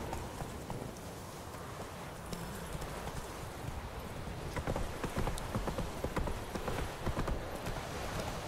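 Horse hooves gallop in a steady rapid clip-clop across open ground in The Witcher 3, with outdoor ambience underneath and no one speaking.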